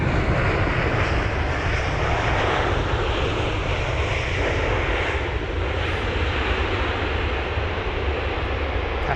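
An Airbus A319 arriving at London Heathrow makes a loud, steady, broadband engine roar that holds without letup.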